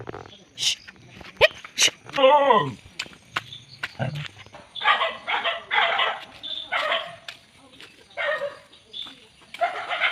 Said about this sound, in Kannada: ನೋಡಿ, ನಮ್ಮದು ನಾಯಿ ಬಂತು ಅದಕ್ಕೀಗ.